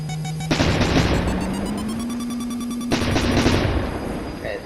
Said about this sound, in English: Just fire your machine gun for a tiny moment,